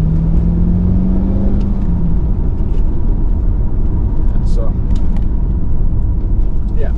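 A red 2002 Chevrolet Corvette with a 6-speed manual drives on a test drive, its engine a steady loud rumble with road noise under in-car talk, pitch dipping briefly early on.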